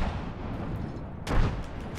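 A frag grenade detonates in a first-person shooter game, a single booming blast bursting out abruptly over a steady bed of in-game background noise, then fading over about half a second.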